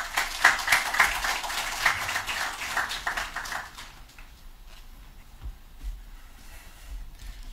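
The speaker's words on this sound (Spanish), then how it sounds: "Fuertes palmas, por favor." Audience at a university engineering conference gives a round of applause, dense clapping for about four seconds that then fades into quiet room tone.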